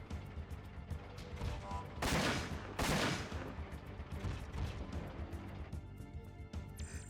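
Shotgun blasts in the Front Mission 4 video game, two heavy booming shots in quick succession over a dense backdrop of game noise and other gunfire.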